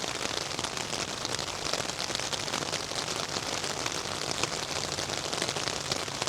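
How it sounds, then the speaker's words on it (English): Steady rain falls on a tarp shelter at a campsite, a dense continuous patter of drops hitting the fabric close overhead, even and unbroken with no voices. "You can hear the rain."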